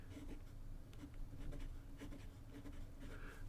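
Medium Heartbeat nib of a Jinhao 9016 fountain pen scratching across paper in short strokes, close and fairly quiet, with light rhythmic scribbling and no talk.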